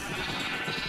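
Minecraft sheep bleating after being shot, a continuous wavering game bleat that fills the moment alone.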